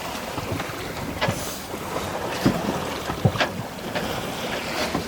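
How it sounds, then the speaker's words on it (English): Wind gusting across a sailing boat in open water, a steady broadband rush with occasional buffeting gusts and faint water and hull sounds, no talk. "The wind's kind of freshening as we get into the middle here."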